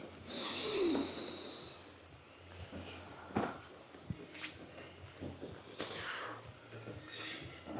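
Heavy, audible breaths and snorting exhales during a Muay Thai and kickboxing workout, irregular puffs close to the mic with faint movement and rustling between them.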